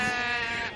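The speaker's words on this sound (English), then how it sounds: "You're hiding the sheep, Porty." A single sheep gives a short, close, harmonic bleat, loud and alone, lasting under a second.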